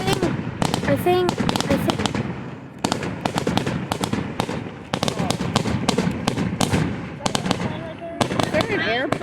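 Fireworks bang and crackle outdoors in a rapid, irregular barrage of sharp loud bursts, some overlapping, with crowd voices and excited chatter underneath throughout.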